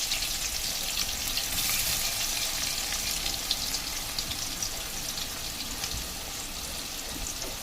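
Onion frying in a pan for a Bengali katla fish curry gives a steady, continuous sizzle with no pauses, fairly close and moderately loud, and nobody talks over it.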